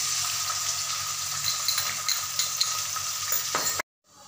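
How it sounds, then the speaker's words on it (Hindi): Chopped onions sizzling in hot oil with cumin, chili, bay leaf and ginger-garlic paste for mung dal, a steady close frying crackle with a few stirring clinks before it cuts off abruptly. "3 बड़े बड़े हम प्याज कट कर लिए थे छोटा छोटा टुकड़ा,"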